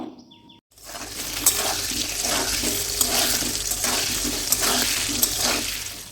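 Potatoes dropped into hot oil start a broad, steady sizzle after a brief quiet start, hissing continuously with a few small pops and clinks of a pan, no voices over it.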